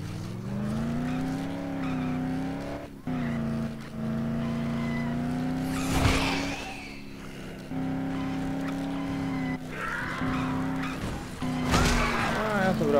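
A car is driven in the video game Dead Island, its engine droning steadily and loudly throughout, with two sharp bursts of tire skidding partway through and near the end.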